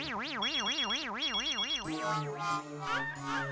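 An electronic telephone ringtone warbles rapidly up and down for about two seconds, then shifts into a different melodic electronic tone.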